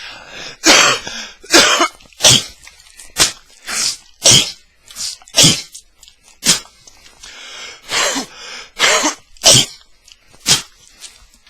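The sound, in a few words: man coughing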